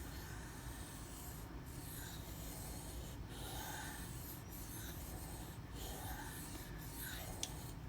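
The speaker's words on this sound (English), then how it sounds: "All I gotta be there is to drag it across the stone." A knife blade is dragged across a sharpening stone in a series of soft, repeated rasping strokes, quiet and close, in an even back-and-forth rhythm.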